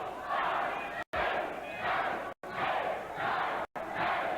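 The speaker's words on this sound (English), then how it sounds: "Crowd urging her on." A loud crowd at a wrestling match roars and cheers steadily in waves, with a few brief cut-outs between bursts of noise.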